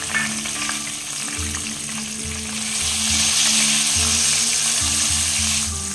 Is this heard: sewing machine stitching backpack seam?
no